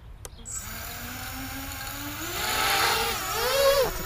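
A ZMR 180 carbon FPV quadcopter with 2800KV motors flies nearby, its motors whining in a steady pitched drone that climbs and swells louder toward the end, with no talk over it.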